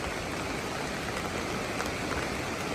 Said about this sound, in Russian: Идет дождь до сих пор.